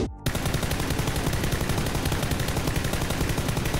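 Continuous automatic gunfire from an M4 rifle with a grip attachment in PUBG, a rapid steady stream of loud shots starting abruptly after a brief silence and running without a break.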